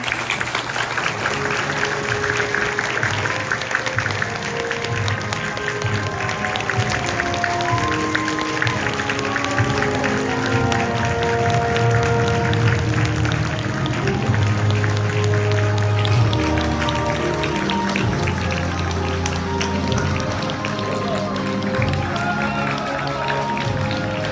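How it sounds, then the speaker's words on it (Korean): Wedding guests applauding steadily as the groom enters, dense clapping throughout with music playing underneath and some cheering voices mixed in. "신랑 입장할 때 우리 뜨겁게 환호하며 박수로 환영해 주시기 바랍니다"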